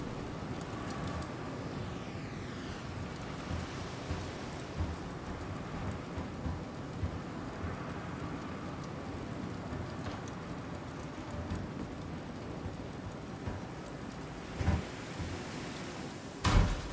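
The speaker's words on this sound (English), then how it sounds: "That storm outside is most definitely picking up now." Thunderstorm in the Star Citizen game world: steady rain hissing over low rolling thunder, with a couple of sharper, louder cracks near the end, heard from indoors at moderate volume.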